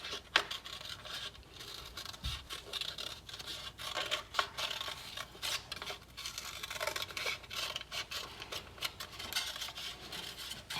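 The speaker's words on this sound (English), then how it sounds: "take your scissors and you're going to cut along that wavy line" Quiet, close snipping and rustling of scissors cutting paper, with small irregular scratches and rubs scattered through the stretch.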